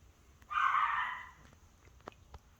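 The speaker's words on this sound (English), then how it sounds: "Ignore the dogs" A single short, loud dog bark or yelp rings out near the start, followed by faint thumps and quiet background noise.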